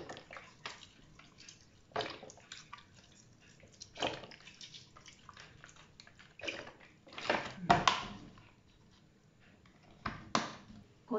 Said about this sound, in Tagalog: Ngayon, lagyan natin ng suka.